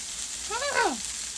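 Food sizzles in a non-stick pan with a steady, close frying hiss, while a brief voiced sound rises and falls over it midway.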